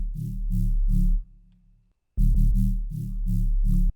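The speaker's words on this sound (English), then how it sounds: "I've got a bass here, which is a bit of a sine wavy thing." A sine-wave synth bass line for drum and bass plays alone, with smooth, deep sustained notes in short rhythmic phrases, a gap of near silence, then the pattern repeats.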